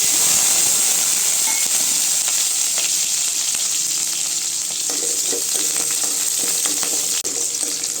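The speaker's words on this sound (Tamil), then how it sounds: "இப்போ எண்ணெய் சூடானாலும் சின்ன வெங்காயம் போட்டு" Small onions fry in hot oil for a Tamil egg curry, making a loud, steady, close hiss that runs without a break, with faint stirring taps underneath.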